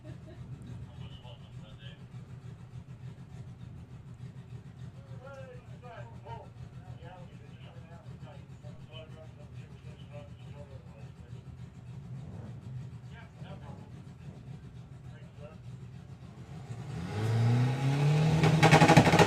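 Outrage Beetle VW drag car at Santa Pod running a low steady engine idle under a commentator's voice, then revving up loudly near the end as it launches.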